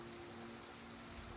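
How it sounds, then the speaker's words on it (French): Steady rain falls across a battlefield in the strategy game Total War: Pharaoh, a soft, even hiss that stays faint and unbroken throughout, with no other sounds breaking through. "Alors, il pleut."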